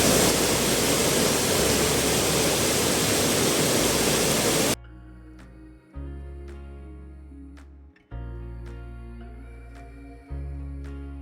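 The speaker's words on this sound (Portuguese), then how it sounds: "você tem acesso a essa cachoeira" A private waterfall on a country property roars as steady, broadband rushing water for the first few seconds, then gives way to soft music-like tones and quieter intervals.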